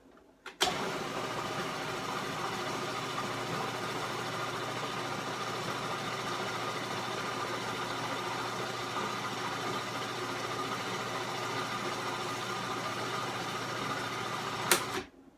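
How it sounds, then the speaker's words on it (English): Food processor blending a potato filling, a steady loud motor whir running continuously for about fifteen seconds with no talking. "Sorry in advance for the food processor noise."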